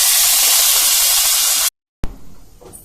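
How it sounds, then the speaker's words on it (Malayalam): Mustard seeds and curry leaves dropped into hot oil for a Kerala-style dhal potato curry, a loud steady hiss that cuts off abruptly, then a fresh crackling burst that fades. "നമ്മുടെ എണ്ണ ചൂടായി കഴിഞ്ഞു. നമുക്കതിലേക്ക് കടുകിട്ട് കൊടുക്കാം."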